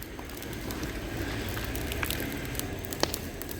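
A large midnight fire flares up outdoors during a Kanuma festival night, giving off a steady roaring hiss with scattered crackles and one sharper pop.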